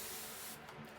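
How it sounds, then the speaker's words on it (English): Atomizer spray bottle misting a thin spray of water over chalk paste on a craft project, a short faint hiss that fades after about half a second. "This is more like an atomizer mist, so it sprays a thin mist over it."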